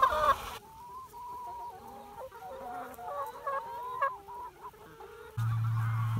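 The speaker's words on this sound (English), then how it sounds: "We just moved the chickens." Chickens on a working farm at sunrise cluck and squawk steadily at moderate distance, overlapping calls rising and falling, with a low steady hum coming in at the end.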